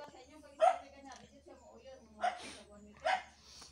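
Three short, sharp dog barks ring out at uneven intervals, somewhat distant, under a person speaking nearby.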